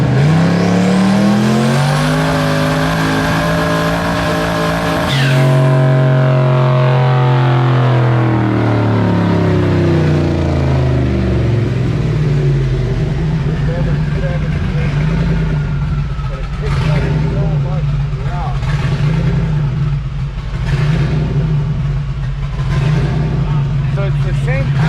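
A HEMI V8 revving hard on a tuning run, pitch climbing to a high wail, then cutting off and falling away to a deep throbbing idle with a few sharp blips, loud and close, with people talking over it.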